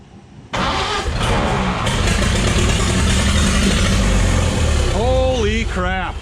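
A 1928 Ford Model A coupe engine cranks and catches, then runs loud and rough at close range for several seconds, with voices cheering over the steady running toward the end.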